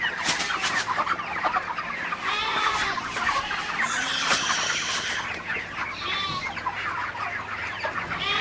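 Broiler chickens, about 37 days old and ready for sale, cluck and chatter steadily in a crowded farm shed, a dense continuous flock noise with occasional louder squawks and no talking.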